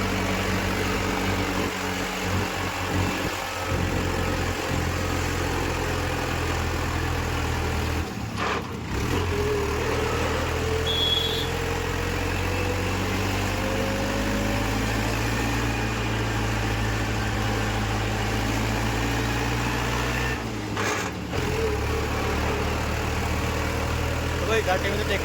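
A tractor engine runs steadily on a hilly valley road, a continuous low rumble with a few brief dips. Someone talks over it now and then.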